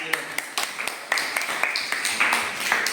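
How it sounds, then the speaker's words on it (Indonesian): A classroom group claps hands in a quick, ragged round of applause, sharp irregular slaps at close range with faint voices mixed in, rising into a steadier patter toward the end. "Iya, tepuk tangan dulu."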